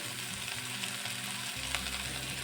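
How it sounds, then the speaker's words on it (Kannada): Onions frying with a pinch of salt in a pan, a dense continuous sizzle heard close up, steady throughout with faint stirring and a low hum underneath. "ಸ್ವಲ್ಪ ಉಪ್ಪು ಹಾಕ್ಕೊಂಡು ಫ್ರೈ ಮಾಡ್ಕೊಳ್ತಾ ಇದ್ದೀನಿ ಈರುಳ್ಳಿನ"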